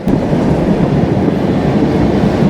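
The Jahanabad Express running on rails between Khulna and Dhaka, a loud continuous rumble of wheels and carriages heard from on board, with no speech.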